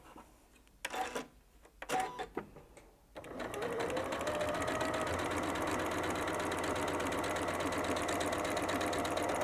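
A sewing machine stitches a half square triangle quilt piece: a few short bursts of needle clatter, then a steady, close, continuous whirring run that holds to the end.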